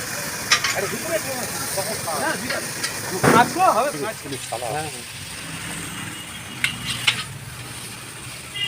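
Panch phoron spices crackle and sizzle in hot oil with a steady hiss close by, while people talk intermittently over the frying.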